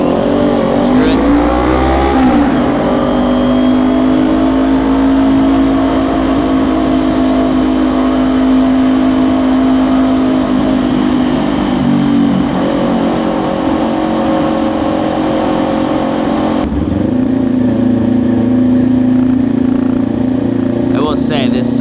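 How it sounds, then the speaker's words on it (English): A motorcycle engine and exhaust riding through Seattle road tunnels, a loud sustained drone that climbs with acceleration, shifts down abruptly partway through, then builds again, echoing close to the rider with wind rush. "exhaust, coupled with the engine noise, sounds really nice in those tunnels"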